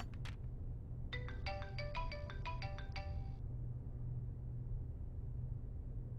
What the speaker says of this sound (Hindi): देखो किसका फोन आया